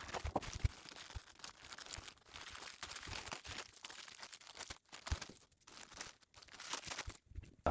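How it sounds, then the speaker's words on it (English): Strong sellotaped plastic bags being torn and crumpled open while unboxing a pair of Amazon Basics stereo speakers, a close, continuous run of crinkling and ripping with sharp bursts. "Wrapped up in some very strong sellotape plastic bags."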